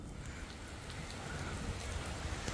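The first rain of the season falls as a steady, soft hiss of drops hitting surfaces, continuous and fairly faint with no voices.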